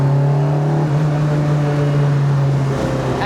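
Lotus Elise 340R engine droning loud and steady from inside the car while driving, a low humming tone that holds level, then dips briefly toward the end as if easing off for a gear change.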